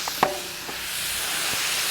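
Meat browning on a very hot DISC-IT cooking disc: a close, continuous hiss of sizzling, opened by a sharp clank of metal at the start.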